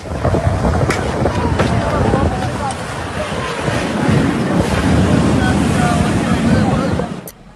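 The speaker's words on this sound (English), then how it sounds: "winds so strong that they could knock down heavy plastic fences" Strong storm wind roars steadily and loudly throughout at the Kaaba in Mecca, a dense rushing noise with occasional gusts and faint voices underneath.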